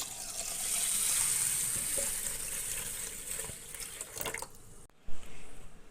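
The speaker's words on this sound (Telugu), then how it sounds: "బాగా కడిగేసుకోవాలి తర్వాత దీనిలో కొన్ని వాటర్ యాడ్ చేసుకొని" Running water from a tap pours steadily over rice and lentils for dosa batter, then stops briefly before splashing resumes as they are rinsed.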